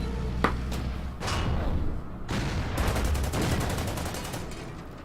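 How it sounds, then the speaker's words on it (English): Tank cannon and anti-tank gun fire from a KV tank battle in the Order of Battle strategy game, with a sharp shot, then dense overlapping gunfire and booms rolling continuously through the rest. "The KV is going to finish off that AT gun."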